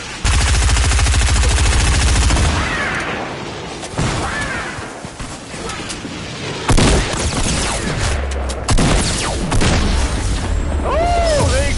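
Gunfire and heavy booms from grenade or rocket launcher fire in a shooter video game, loud and dense, with bursts and blasts continuing across the whole stretch while players shout over it.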